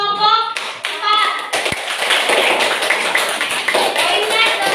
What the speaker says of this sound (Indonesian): Kasih tepuk tangan dulu untuk kelompok 4.